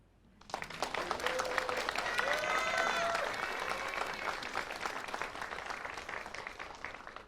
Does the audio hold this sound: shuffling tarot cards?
no